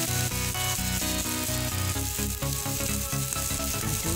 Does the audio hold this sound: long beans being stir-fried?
yes